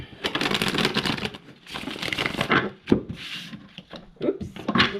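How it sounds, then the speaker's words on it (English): Tarot cards being shuffled by hand, a dense run of papery riffling and rubbing that comes in bursts with short pauses, close and fairly quiet, with a voice talking over parts of it. "We're going to shuffle up the cards"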